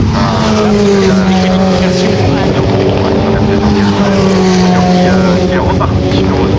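A Ferrari Challenge race car in a 2019 qualifying session runs off the track and rejoins, its engine roaring loudly with tire noise throughout while commentators talk over it.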